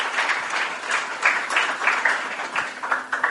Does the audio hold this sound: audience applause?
yes